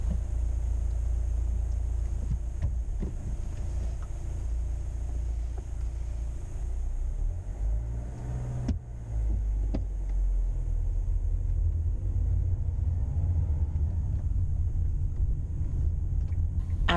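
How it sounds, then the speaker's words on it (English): A manual car's engine hums steadily through a hill start, a low continuous rumble with a brief dip midway as the clutch bites and revs rise. "Let's watch and listen as we try a hill start next."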